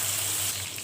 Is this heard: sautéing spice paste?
yes